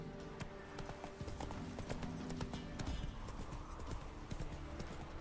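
Horse hooves clip-clopping at a steady gallop in The Witcher 3 game, continuous rhythmic thuds over a busy game soundscape, with no talking.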